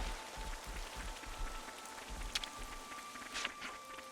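Steady rain in the video game Xenoblade Chronicles 3, a soft continuous patter hissing on surfaces, fairly quiet and even, with a faint low tone and a few brief brighter drips standing out.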